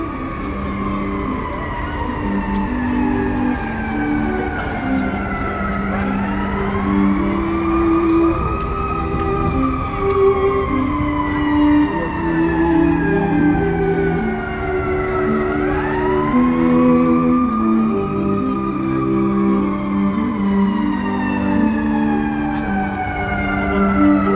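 A loud wailing ambulance siren sweeps up and down in long repeating cycles, close and continuous over the rumble of passing traffic on a US street.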